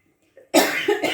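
A few harsh coughs close to the mic, a sharp first burst followed by two shorter ones, after a moment of near silence.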